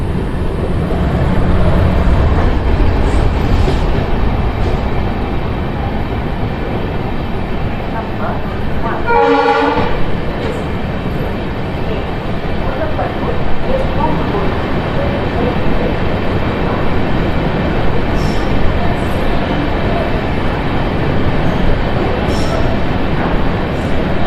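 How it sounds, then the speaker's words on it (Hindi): Kulik Express hauled by an Alco diesel locomotive rolling into Malda Town station, a loud continuous rumble and rattle of wheels and carriages, with a horn blast partway through and faint voices beneath. "तो चलिए मालदा टाउन में इस ट्रेन का अराइवल देख लेते हैं।"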